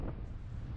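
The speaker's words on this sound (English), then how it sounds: "it's too windy. Up to 40 kilometers per hour is the wind today" Strong wind gusts buffet a microphone on a beach in Crete, a steady loud low rumble with no other sounds.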